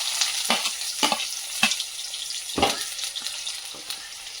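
Chopped onion frying in hot oil with roasted mustard seeds for poha, a steady sizzle punctuated by several scraping stirs of a spatula against the pan, close up and without speech.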